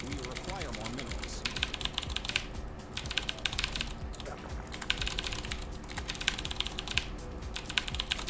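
Rapid, continuous computer keyboard clatter runs throughout a StarCraft match, close and fairly loud, with someone speaking quietly at times beneath the keystrokes.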